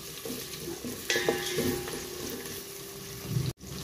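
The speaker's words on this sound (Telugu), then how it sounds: "వీటిని కలుపుకుంటూ లైట్ బ్రౌన్ కలర్ వచ్చేంత వరకు ఉల్లిపాయలను వేయించుకుందాము।" Onions and curry leaves fry in oil for egg pulao and are stirred with a spatula. A soft, continuous sizzle runs under intermittent scraping stir strokes.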